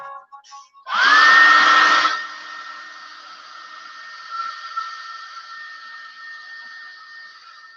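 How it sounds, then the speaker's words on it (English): A hair dryer switches on and blows loudly on a painted pink ornament for about a second, then keeps running at a softer, steady whine; small clicks come just before it starts. "I'm going to hit this with a hair dryer."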